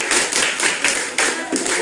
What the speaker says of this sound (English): Now you clap up for Nanavi.